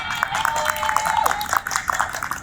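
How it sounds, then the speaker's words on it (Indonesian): Audience at an Indonesian talk show in Solo clapping to welcome a guest, fairly loud and uneven, with a few sharper individual claps standing out and a faint tone underneath. "Tepuk tangan dong."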